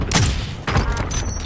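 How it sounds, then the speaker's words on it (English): Cluster strike explosions rumble in Call of Duty: Modern Warfare, two heavy rolling blasts about half a second apart, loud and close, with continuous crackling debris and low booms filling the clip. "Target area is marked. Send it. This is Builder 2-0. Good copy. Cluster strike away."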